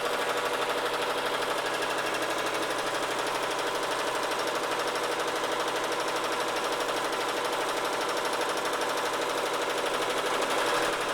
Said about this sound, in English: So I'm gonna go ahead and let it start, and it'll do that tack down stitch, and then I'm just gonna keep going right on into the satin stitch.